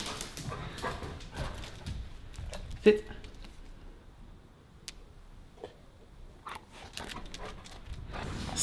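A pet dog whimpers and yips indoors, giving one sharp bark near the start and scattered soft whines and pants after it, with a person talking quietly around the sounds.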